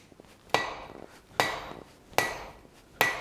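Four evenly spaced, ringing hammer blows on hot steel stock over an anvil while forging a small leaf key-chain, each strike sharp and metallic with a short decay, heard alone without talk.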